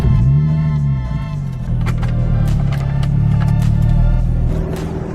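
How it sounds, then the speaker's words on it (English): A Nissan Z with a muffler delete idles and revs loudly up close, a deep raspy exhaust drone rising and falling in pitch, with no voices over it. "I'll show you guys how it sounds with the new muffler delete."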